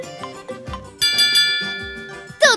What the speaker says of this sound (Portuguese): A campainha já tocou.